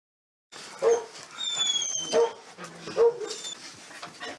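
Several dogs bark and yelp at a rehabilitation center for evacuated animals near Bila Tserkva, repeated overlapping barks at moderate distance with some whimpering in between.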